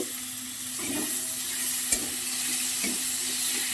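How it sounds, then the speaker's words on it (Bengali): Potato pieces sauté in oil in a pan, with a steady, close frying hiss and a soft scrape of the spatula about once a second. "এবার আলু টুকরোগুলো দিয়ে দিলাম, এই তেলের মধ্যে ভালো করে কষে নেব।"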